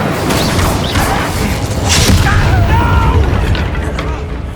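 Incendio fire spell cast in Hogwarts Legacy, a loud whooshing burst of flame with a low booming rumble that stays dense and sustained, with a voice speaking briefly over it.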